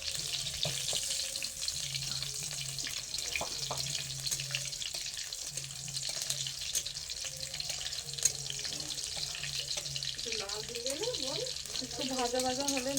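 Panch phoron and green chillies fry in oil while being stirred with a spatula, giving a continuous close sizzle with occasional clicks, and a voice speaks over it near the end.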